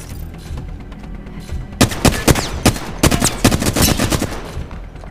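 Automatic gunfire in the battle royale shooter Apex Legends during an arena match, with rapid, loud bursts of close shots in quick succession after a quieter start.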